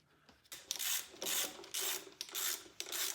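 Valve cover bolts on a Hemi engine run in snug with a hand tool: a quick string of near, rasping ratchet strokes with short pauses between them, with no talking.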